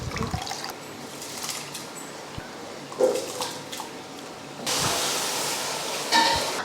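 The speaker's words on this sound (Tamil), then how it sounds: "இப்போ நான் வந்து அரிசியை போட்டுக்கிறேன்." Soaked seeraga samba rice tipped into a pot of boiling water for Ambur chicken biryani, giving a wet rushing splash and bubbling that swells loudly near the end, with no talking.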